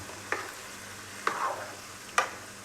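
Thrissur-style pork and koorka being stirred in a pan: three spaced scrapes of a spoon against the pan over a low steady sizzle, with no talking.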